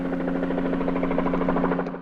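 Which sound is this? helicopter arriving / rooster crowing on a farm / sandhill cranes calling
helicopter arriving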